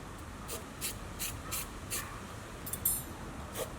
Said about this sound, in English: we're just going to use some spray paint